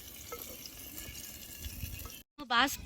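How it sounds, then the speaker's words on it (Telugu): Masala water poured into basmati rice in a clay pot for pot chicken biryani cooked outdoors, a close splashing gush that starts near the end after a quiet stretch of faint background. "సో ఇప్పుడు నేను వాటర్ కలుపుతున్నాను. ఇదంతా మసాలా వాటరేనండి."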